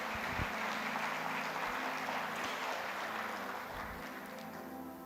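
A church congregation claps steadily and densely throughout, a wash of applause that fades slightly near the end.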